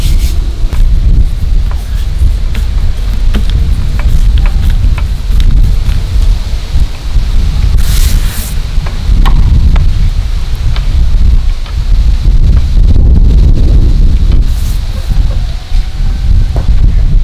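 Heavy rain and gusty wind outdoors roar steadily and loudly, with buffeting rumbles against the microphone and occasional brief crackles.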